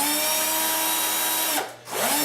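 A battery drill rewired to run from mains power whines at a steady high pitch, briefly cutting out and spinning back up near the end, with no talk.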